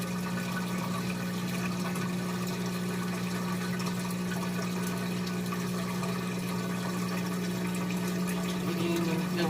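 A Whirlpool WTW4816FW1 top-load washing machine goes into its spin cycle, a continuous steady hum with water-like rushing and a constant low drone, unchanging and close throughout.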